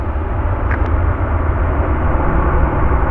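Jet airliner on a runway at Chicago O'Hare airport, a steady broad roar of engines that stays loud and unbroken throughout, with no voices over it.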